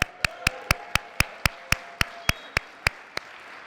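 Slow, evenly spaced single claps, about a dozen sharp hits at a steady beat, as an audience claps for an honoree at a Black History Month celebration, with faint room noise between.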